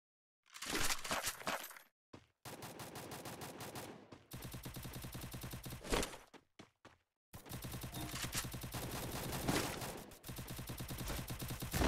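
Gunfire from the video game Free Fire, loud sustained automatic bursts lasting several seconds each, split by a few short gaps, with no talking.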